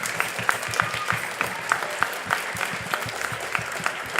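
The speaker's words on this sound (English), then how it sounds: "If you want to give them a round of applause." Audience applause at a school spring concert, a loud room of clapping hands with distinct sharp individual claps standing out over the steady crowd wash.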